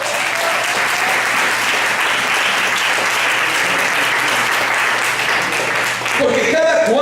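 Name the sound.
congregation applause in church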